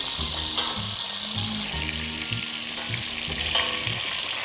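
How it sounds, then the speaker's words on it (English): Meat browning in hot virgin olive oil for a Greek dish, a loud close continuous sizzle and crackle with faint stirring scrapes, no voices. "Voula is browning the meat in hot virgin olive oil"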